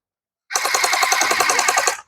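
A gel blaster toy gun fires a rapid automatic burst, a fast even rattle of about twenty shots lasting roughly a second and a half, loud and close after brief silence.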